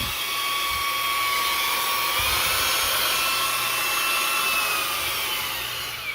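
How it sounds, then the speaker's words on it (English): A Bebuy cordless handheld 4-in-1 car vacuum cleaner runs in blower mode, giving a loud, steady high-pitched motor whine with airflow rush that holds constant and dips slightly at the end, with no talking. "Here, you'll turn that on. You can really feel kind of the blowing."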